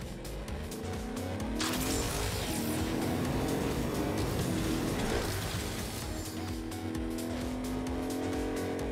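Vehicle driving hard in the video game Agents of Mayhem, engine roaring continuously with repeated tire squeals and skids, loud and close throughout, under game music and effects, without talk.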